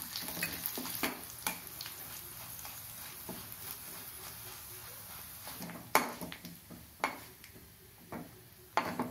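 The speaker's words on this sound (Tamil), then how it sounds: "மிளகாயை வறுத்து கொட்டிக்கலாம்." Dried chillies fry in oil in a pan with a soft continuous sizzle, broken by repeated scrapes and clacks of a spoon stirring against the metal.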